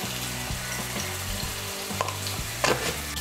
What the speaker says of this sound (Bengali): দিয়ে পনিরগুলোকে আমি হালকা একটু ভেজে নেব